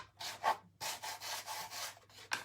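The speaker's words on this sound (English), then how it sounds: "I just want to touch the edges with a little bit of the sanding block" A sanding block rubs along the edges of a wooden stencil project in short, close strokes, a dry gritty scraping that comes in a few separate passes with brief pauses between them.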